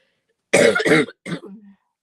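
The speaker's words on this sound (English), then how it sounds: "Excuse me for coughing." A person coughs indoors: a pair of close, harsh coughs followed by a shorter third cough trailing into a throat-clearing rasp.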